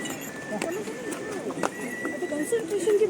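A horse carrying a rider down a mountain path on the Yamunotri pilgrimage trail, hooves clip-clopping in an uneven stepping rhythm nearby, while people talk throughout.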